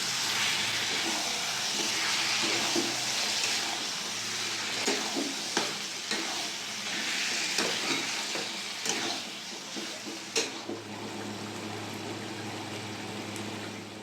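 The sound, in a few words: chicken with fried yogurt being sautéed and stirred in pan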